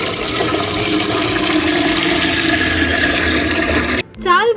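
Rice being washed in water makes close, steady sloshing and running-water noise, fairly loud, which cuts off abruptly near the end.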